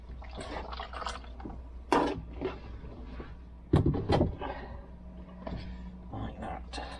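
Water splashes and runs briefly during a rinse aboard a small dinghy, with a few louder splashy bursts, while someone talks over it close by.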